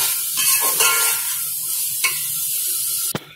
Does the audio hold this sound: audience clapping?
no